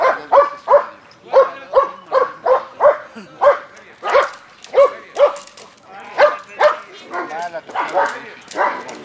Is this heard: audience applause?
no